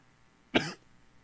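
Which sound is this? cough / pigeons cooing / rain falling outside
cough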